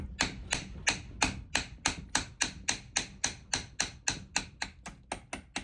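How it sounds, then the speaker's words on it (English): A hammer drives a punch against the roll pin of a T5 transmission gear selector from a 1986 Mustang, striking about fifteen sharp, evenly spaced metallic blows in a steady rhythm, close and loud with no talk. "knock that pin out"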